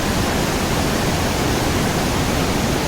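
Rushing river water at the source of the Yamuna, a loud, dense, unbroken roar of fast-flowing water filling the whole moment close by, with no voices.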